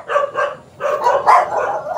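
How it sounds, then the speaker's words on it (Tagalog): Several dogs barking in a neighbourhood, a run of four or five loud, close barks in quick succession. "Kaya lang ang daming aso."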